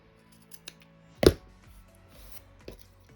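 Scissors snip once through excess ribbon while finishing a freehand pinwheel hair bow, a single sharp, close cut standing out against an otherwise quiet background with only faint handling noise.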